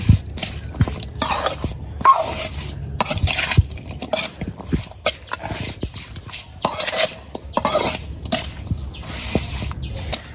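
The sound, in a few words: mixing small river fish with oil and spices for bhuna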